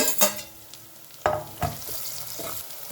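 Green chilies are dropped into shredded cabbage frying in a pan, setting off brief bursts of sizzling and stirring clatter over a low, steady hiss.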